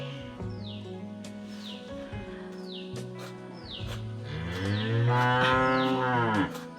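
Cattle moo in several long, low calls one after another at a rural home, close and fairly loud, with birds chirping faintly in the background and no talk.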